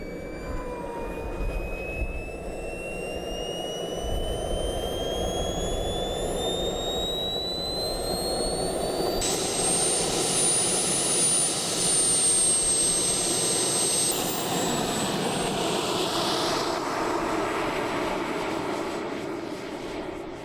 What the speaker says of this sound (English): so it was now time for the first engine run-up